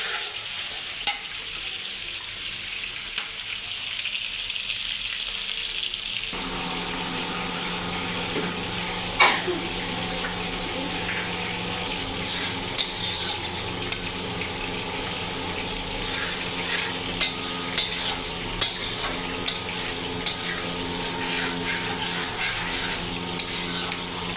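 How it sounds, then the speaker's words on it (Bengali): Chicken pieces frying in a pan with spices, a steady dense sizzle that grows fuller after a few seconds, with occasional stirring clatter and scraping, close and continuous, no talk. "তো সবগুলো মুরগি আমি এরকম করে ফ্রাই করে নিচ্ছি।"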